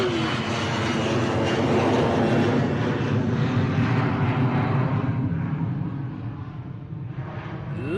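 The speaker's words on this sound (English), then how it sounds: "Lovely departure from the KLM." A KLM airliner taking off at Bristol Airport, a loud sustained jet engine roar that rises and then gradually fades as the plane climbs away.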